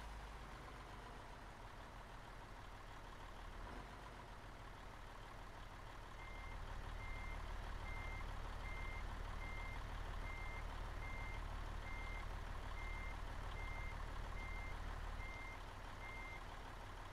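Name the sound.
truck reversing beeps, from a truck-driving video game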